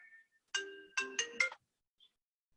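A telephone ringtone plays a short electronic melody of four quick chiming bursts after a faint lead-in tone, fairly quiet and alone.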